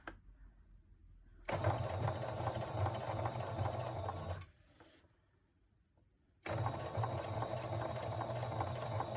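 Sewing machine stitching the side seam of a tote bag, a loud steady mechanical whir in two bursts of several seconds each, separated by a brief quieter pause when it stops.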